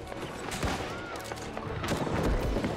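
Cannon fire in a large war battle in the video game New World, with sharp bursts and booms in a dense, continuous volley, scattered blasts overlapping throughout.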